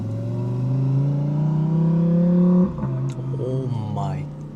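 A Lamborghini V10 engine revs, a loud, close, smooth rising drone that peaks and then drops back to a lower idle hum, with someone talking over the end.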